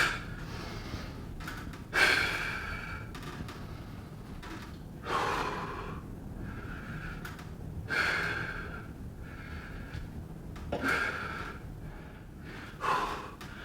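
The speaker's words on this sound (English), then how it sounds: "Breathe in. Just get that breath back." Heavy, gasping breaths and snorting exhales after a set of step-up exercises, coming in loud bursts roughly every two to three seconds over a quiet room, close to the listener.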